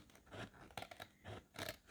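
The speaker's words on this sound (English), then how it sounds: "if you cut nice and smoothly with your scissors, you can get a really lovely shape line" Scissors cut smoothly through a paper pattern for a basic pouch sheath, giving close, quiet snipping and crisp paper noise in a few short strokes.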